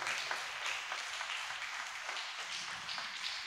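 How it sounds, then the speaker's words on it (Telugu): A church congregation at Sunday Holy Mass applauds together, a steady, moderately loud wash of many hands clapping that fills the space evenly throughout. "గట్టిగా చప్పట్లు కొడదాం"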